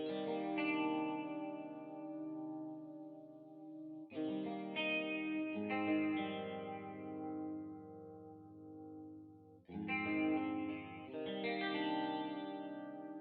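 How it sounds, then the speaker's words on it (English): An electric guitar plays sustained minor ninth chords through chorus, echo and reverb effects, in three ringing strums that each fade slowly, alone with no voices. "So the first thing I've got is this guitar, which is the main guitar, and it sounds like this."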